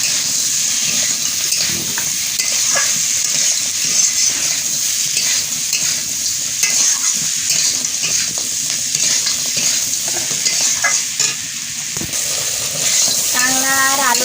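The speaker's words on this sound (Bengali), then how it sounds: "কাঁকড়া আর আলুটা কষাই করে নিয়ে নিয়েছি।" Field-caught crabs and potatoes stir-fried in a pan, a loud continuous sizzle with frequent scraping stirs close up, a faint voice briefly audible in the background.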